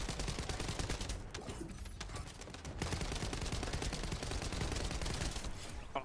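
Rapid automatic gunfire in the shooter game The First Descendant, a dense relentless rattle of shots running almost the whole time with a brief lull near the middle, loud and close.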